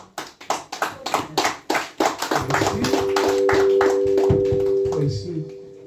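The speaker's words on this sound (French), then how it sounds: "Je ne sais pas si c'est honorable de m'applaudir pour ça." An audience claps at a church harvest festival sermon, starting as a few loud, separate claps that quickly swell into steady, full applause before fading, with a sustained tone and some voices underneath.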